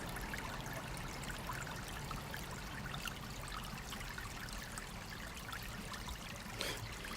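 A mountain spring near Tokyo trickles clean water in a faint, unbroken wash of gentle splashing, heard alone and at low level throughout.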